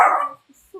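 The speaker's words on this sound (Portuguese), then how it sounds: "Meu cachorro." A single dog bark, loud and close, rings out at the start and quickly fades into near silence, with a faint short noise at the very end.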